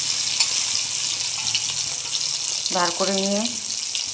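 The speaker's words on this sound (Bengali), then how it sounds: "চিংড়ি মাছগুলো দেখো ভাজা ভাজা হয়ে গেছে।" Prawns fry in a pan with a continuous, fairly loud sizzling hiss, and a voice speaks briefly over it partway through.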